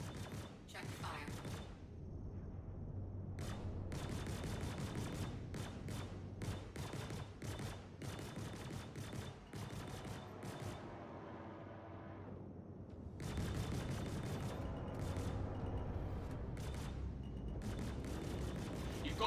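Sustained gunfire in a video game as outlaws attack a ship, with rapid machine-gun volleys in long bursts, a brief lull in the middle, then heavy firing again under a steady low rumble.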